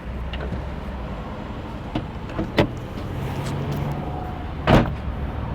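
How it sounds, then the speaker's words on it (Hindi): Road traffic at a busy signal intersection, heard as a steady broad rumble of engines with a few scattered thumps and a louder passing whoosh near the end. "यहाँ बहुत जहमा, बहुत ट्रैफिक होती है इस वाले इशारे पे"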